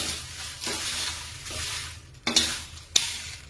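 Homemade garam masala roasts in a pan over a low flame, a soft dry sizzle broken by a few sharp scrapes and knocks of a spoon stirring, close by with no voices.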